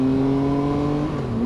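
A Triumph Tiger Sport motorcycle engine pulls hard and steady under acceleration, a loud, close whine with strong even tones held for a short burst.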